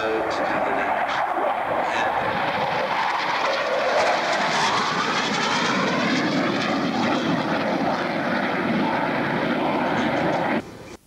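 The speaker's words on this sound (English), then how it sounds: "watch for the pop-up of the decoy aircraft" Low-flying display aircraft at an airshow roar close and loud for nearly the whole stretch, the engine tone sweeping as a jet passes low overhead before cutting off abruptly near the end.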